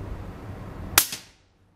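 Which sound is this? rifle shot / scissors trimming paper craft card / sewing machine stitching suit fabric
rifle shot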